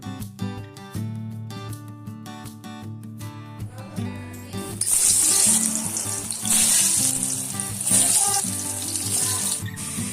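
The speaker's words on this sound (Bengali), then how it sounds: "এদিকে সব সবজি দিয়ে সবজিগুলো ভাজতে দিয়েছি" Mixed vegetables sizzle and fry in a pan in a home kitchen. The crackle starts softer under other tonal sounds, then turns loud and steady for the second half.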